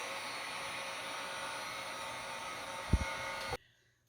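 A heat tool warms boards to accept encaustic wax, blowing with a steady, close whooshing roar, then a couple of soft thumps before it cuts off abruptly.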